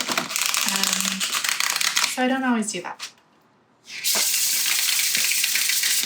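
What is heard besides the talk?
shuffling tarot cards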